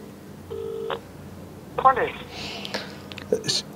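Telephone keypad tones sound in short separate beeps, one near the start, a pair in the middle and one more near the end, fairly close and clear, with quiet breathy handling noise and faint murmured voice between them.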